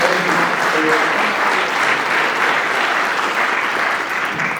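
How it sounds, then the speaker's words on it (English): An audience at a civic arts presentation gives a round of applause, a dense, loud, sustained clatter of many hands that holds steady throughout and fades slightly at the end. "Let's give Brandy another round of applause."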